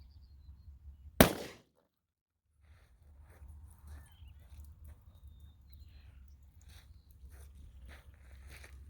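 A single sharp, loud gunshot from a .40 S&W pistol firing a Federal HST 180 grain round into ballistics gel at 15 feet, followed by a brief dropout and then quiet outdoor background.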